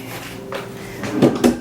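Two quick wooden knocks of a drawer in a hotel room at Disney's Wilderness Lodge, sliding and bumping shut in close succession near the end after a quiet room tone.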